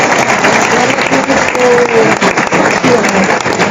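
A church congregation at a charismatic Catholic gathering breaks into loud, sustained applause, a thick continuous patter of many hands filling the room without pause.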